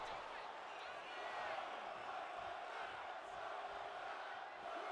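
Crowd at a wrestling event chanting and cheering steadily throughout, a dense sustained roar of many voices filling the arena.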